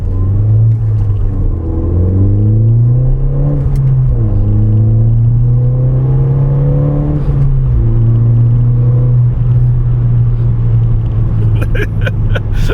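A Ford Fiesta ST, listed as a category N repair, accelerating hard on an open road, its engine rising through the revs in several gear pulls with brief dips at each shift, loud and close from inside the cabin.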